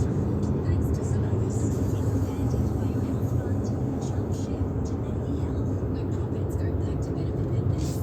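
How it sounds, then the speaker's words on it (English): Steady road and engine hum inside a 2021 Hyundai Palisade cruising at 100 km/h, a constant broadband drone with no distinct events and faint background voice. "The refinement's okay at cruising speeds, even at 100 kilometres an hour."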